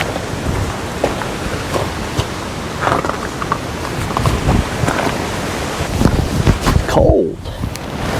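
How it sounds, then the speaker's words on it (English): Strong gusting wind of about 40 mph buffets the microphone with a heavy, rumbling roar that rises and falls, with no voices. "It is windy out."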